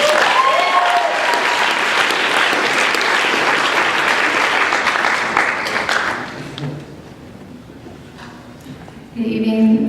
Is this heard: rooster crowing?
no